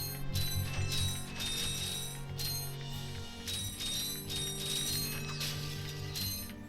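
Bolts being collected in the Ratchet & Clank video game: rapid bursts of bright metallic clinks and chimes over a steady mechanical whir, repeating in quick clusters throughout.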